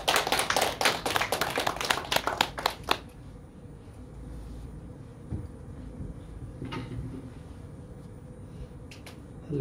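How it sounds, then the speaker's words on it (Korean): Applause from a church congregation during a Sunday worship service: a dense burst of many hands clapping for about three seconds, then stopping abruptly, leaving quiet room ambience with faint shuffling and small knocks. "우리 박수로 모시겠습니다"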